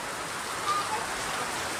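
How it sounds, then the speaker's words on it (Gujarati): Steady broadband hiss of heavy rain pouring continuously, with no talking. "ખૂબ વરસાદ ચાલુ છે"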